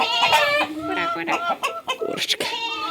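Several red hens cluck and squawk close by, with a rooster's harsher calls mixed in, busy and overlapping throughout.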